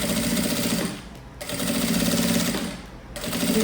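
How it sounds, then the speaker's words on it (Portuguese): Sewing machine stitching a seam along the bottom of a fabric pencil case, its rapid steady whir running loud and close in two bursts with a short pause between them. "Então, aqui eu passo uma costura aqui embaixo."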